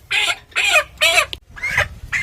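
Chickens at a busy chicken shop give loud, close, repeated clucks and squawks in several bursts, with a faint hum of background voices underneath.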